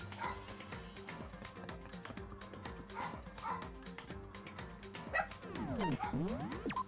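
A small dog yaps repeatedly in quick, sharp bursts close by, with some whimpering yips, over a busy background of music and game sounds.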